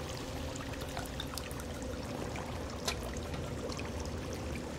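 Water being drunk or poured in the survival video game Sons of the Forest, a steady trickling, pouring wash of liquid that runs continuously and evenly for several seconds, heard alone at moderate level.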